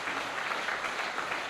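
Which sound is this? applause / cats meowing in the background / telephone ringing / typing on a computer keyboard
applause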